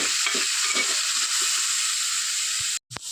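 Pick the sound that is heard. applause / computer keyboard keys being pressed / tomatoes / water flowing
tomatoes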